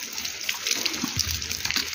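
Water pours and splashes steadily while garden plants, including sugarcane, are watered outdoors, a continuous close hiss with small droplet sounds and no talk.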